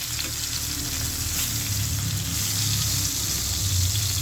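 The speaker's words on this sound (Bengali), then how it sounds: "যখন বেগুন তেলে দিবেন হাত ছিটকে একটু পানি দিয়ে দিবেন তাহলে দেখবেন যে বেগুনটা ওই পানিটাতে সিদ্ধ হয়ে যাবে" Eggplant slices fry in oil in a frying pan with a little water splashed in, giving a close, constant sizzle and bubbling with no talking.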